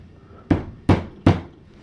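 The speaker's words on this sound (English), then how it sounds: "I'll use an awl to make a center mark" An awl struck into a wooden block held in a vise to make a center mark gives three sharp, close taps at an even, fairly quick rhythm, each one decaying fast.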